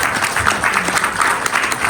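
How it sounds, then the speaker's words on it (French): Steady applause from an audience, a dense wash of clapping that holds at a constant level throughout. "On va les applaudir tous les trois."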